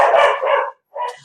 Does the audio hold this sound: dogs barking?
yes